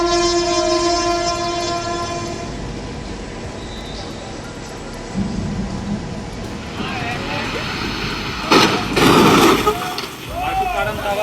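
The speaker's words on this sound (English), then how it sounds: "a passing train in torrential rain" A train rumbles past amid steady heavy rain, with a long horn tone early on and a loud burst of rushing noise near the end.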